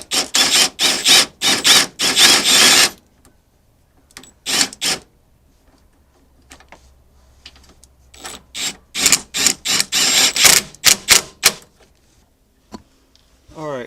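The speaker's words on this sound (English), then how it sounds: "Take my impact gun." Impact gun driving bolts on Subaru rock sliders, firing in sharp rattling bursts of hammering clicks with pauses between, loud and close with little else around.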